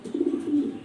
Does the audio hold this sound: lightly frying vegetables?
no